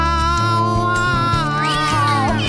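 A voice imitating a cat, drawing out a high, wavering meow that rises and bends over a backing of steady music.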